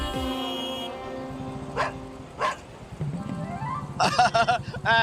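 A dog barks and yips in short bursts, with whimpering tones mixed in, heard fairly close in a comedy scene over a steady hum.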